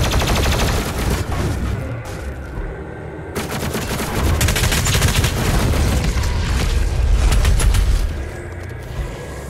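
Heavy gunfire and booming blasts from a shotgun in the video game Doom Eternal, played on Ultra-Violence difficulty, with repeated loud shots and explosions running continuously throughout.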